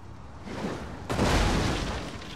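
Heavy impact of an artillery boulder landing among troops in Rome 2 Total War, a deep boom that swells over rumbling battle noise and lingers as a broad roar.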